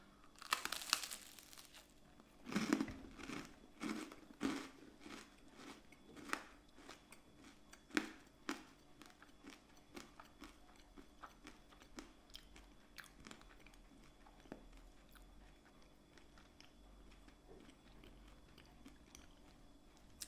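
Close crunching bites and chewing of a hard, caramel-like spiced medieval sweet, crisp snaps in irregular bursts early on, then quieter steady chewing with occasional crackles.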